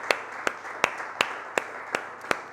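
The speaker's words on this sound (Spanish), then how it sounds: "Dale un fuerte aplauso a Cristo Jesús" A church congregation claps in unison, with seven sharp, evenly spaced hand claps in a steady rhythm, fairly faint and distant over a soft background hum, with no talking.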